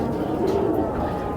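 A pigeon coos in a low, steady murmur close by, a continuous soft warble without clear breaks, from a breeder's pen of pure Neoro pigeons.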